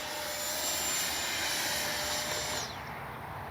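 An FMS Integral 80mm electric ducted-fan RC jet plane passes overhead, its steady high-pitched whine holding for over two seconds and then dropping in pitch and loudness as it moves away.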